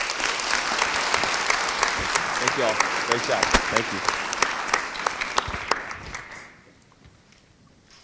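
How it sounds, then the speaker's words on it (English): Audience applause at a school board of education meeting, dense clapping for about six seconds that fades out, with a voice speaking over it near the end. "Let's give them another round of applause"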